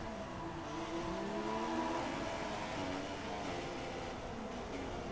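A Formula 1 race car engine in a racing video game drones at a steady, high-pitched whine while driving along, with no speech over it.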